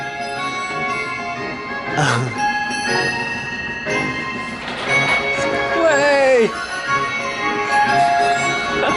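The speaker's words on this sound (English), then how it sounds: "The Cabinet of Bells." Cabinet of Bells in Asakusa, Tokyo, chiming a jaunty run of sustained, overlapping bell tones, with a voice briefly calling out over it.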